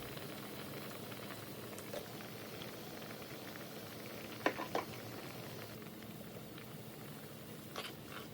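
A seafood scorched-rice soup bubbles at a low, steady simmer, soft and close, with a couple of faint clinks partway through.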